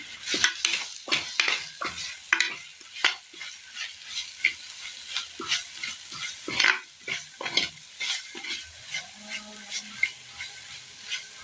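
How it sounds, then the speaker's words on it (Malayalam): Curry masala fries in a pan for a Kerala-style gravy curry while a spoon stirs it, producing a close, rhythmic run of scraping strokes over a low crackling sizzle, with no voices. "ഇനി മൊത്തത്തിൽ ഒന്ന് ഇളക്കി കൊടുക്കാം."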